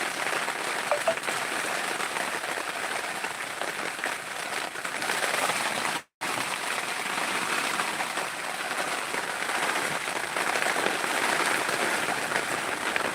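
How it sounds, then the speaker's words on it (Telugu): Heavy rain pours down steadily at Raptadu in Anantapur district, a dense, loud, unbroken hiss that fills every moment except for a brief dropout midway, with no voices. "ఇక్కడైతే వర్షం చాలా ఎక్కువగా వస్తుందండి"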